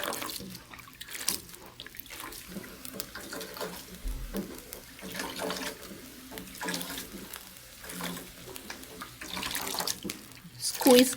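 Water pours and splashes steadily into a bowl of grated coconut flesh, a continuous running, bubbling wash close by that swells and eases over several seconds, with faint voices in the background.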